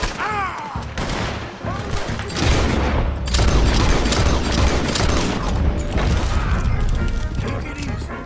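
Rapid gunfire rattles through a Red Dead Redemption 2 shootout, loud and continuous for several seconds, with overlapping shots, heavy low booms and crashing impacts, and shouted voices mixed in.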